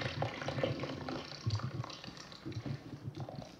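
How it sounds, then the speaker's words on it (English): Toilet flush in the Resident Evil VII video game, a rushing, gurgling water sound with rattles running throughout at moderate level, with no speech over it. "All right, flush the toilet."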